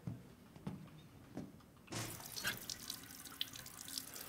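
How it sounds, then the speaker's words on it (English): Water from a tap in the video game Resident Evil Village, a few faint drips and knocks at first, then a sudden steady gush of running water into a sink, quiet and alone. "Looks like the water works here."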